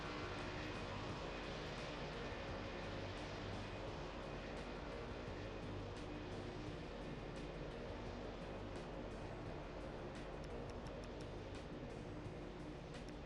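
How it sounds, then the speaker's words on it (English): Airplanes in the World of Airports game, set at Muscat airport: a constant, loud jet engine roar holds steady throughout, broad and unbroken, with no talking over it. "Some of these planes are really loud."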